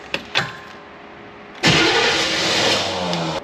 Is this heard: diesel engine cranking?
yes